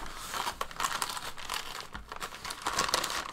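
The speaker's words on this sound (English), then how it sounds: "I'm just going to rip that side off" Paper packaging of a Secret Santa parcel is ripped and crinkled open by hand, a series of close, bright tearing and rustling bursts with no talk.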